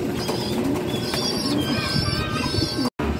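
Breeder pigeons coo in an aviary loft, their low throaty calls overlapping continuously and fairly close, with faint chirps and a brief gap near the end.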